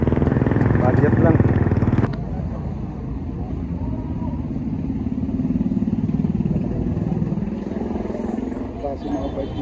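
Motorcycles rumbling and passing close by on a rainy city street in Ozamiz, a loud engine roar that drops after two seconds into a continuous traffic drone and clatter.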